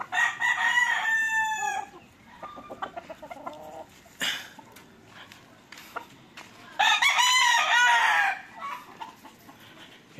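Inbred and linebred gamefowl roosters crowing nearby, two full crows with clucking and softer calls between them and someone talking quietly in the background.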